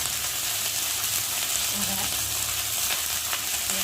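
Spices frying in a pan with green chili for chana dal, giving a continuous close sizzle with light stirring scrapes.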